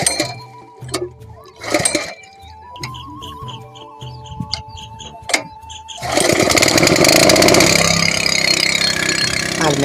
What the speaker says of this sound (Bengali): তো দেখো বাবা এবার মেশিনটাকে স্টার্ট দিয়ে নিচ্ছে।